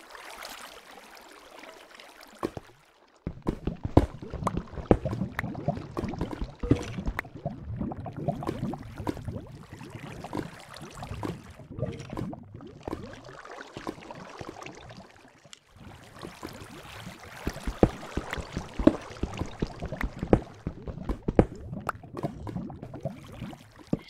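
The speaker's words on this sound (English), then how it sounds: "Lava and water sounds at the same time." Lava and water together in a video game: continuous bubbling, popping and gurgling with irregular crackles, moderately loud, after a quieter opening and with short pauses between bursts.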